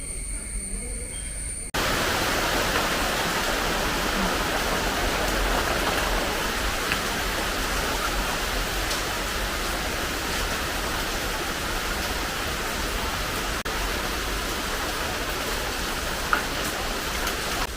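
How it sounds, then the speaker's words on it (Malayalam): Heavy monsoon rain pouring and splashing water, a dense, steady wash of noise that starts abruptly after a short quieter opening and continues loud and even to the end. "മഴ പെയ്യുമ്പോൾ വെള്ളം തെറുക്കി വരുന്നു"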